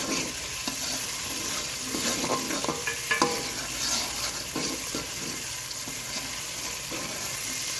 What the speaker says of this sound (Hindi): प्याज को हम अच्छी तरह से फ्राई करेंगे।